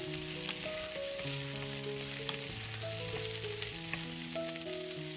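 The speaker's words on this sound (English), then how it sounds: "give them a quick stir while frying" Brussels sprouts and carrots sizzle and crackle steadily as they stir-fry in a hot pan, with occasional stirring clatter, close and continuous.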